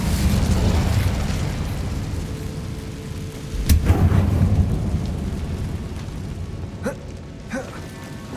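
Incendio fire spell cast in Hogwarts Legacy, a loud whooshing burst with booming, crackling flames over a rumbling game soundscape, followed by a few sharper pops near the end.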